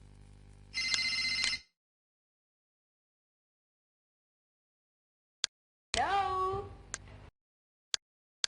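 A telephone rings in two loud electronic bursts separated by a long silence, followed by a few faint clicks.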